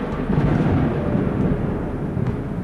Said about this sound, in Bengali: সঙ্গে সঙ্গে কানে এলো তালা লাগানো মেঘের গর্জন